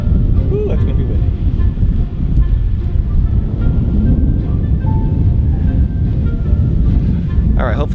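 Steady, loud wind buffeting the microphone in a low roar throughout on an RV rooftop in Chicago, with brief faint higher sounds near the start and end.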